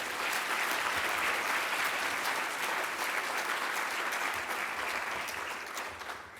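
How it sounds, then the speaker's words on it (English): Steady crowd applause following a plenary keynote, a broad continuous patter of many hands heard at a distance and fairly quiet, holding evenly for several seconds before easing slightly at the end. "Can we give him and the mayor a big,"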